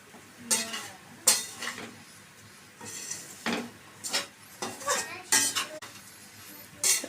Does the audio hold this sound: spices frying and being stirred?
yes